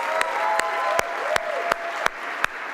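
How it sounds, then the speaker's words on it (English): A crowd at Microsoft's 50th anniversary celebration applauds guests: a continuous patter of clapping punctuated by a few sharp, louder claps at regular intervals. "so please can everyone give a warm round of applause."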